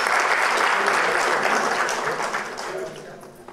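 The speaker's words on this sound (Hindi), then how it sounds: "एक बार इनके लिए जोरदार तालियां बजाएं।" Loud, dense clapping from the audience at a Hindi poetry gathering (kavi sammelan) at a Hindu center in New York, strongest at first and then gradually fading.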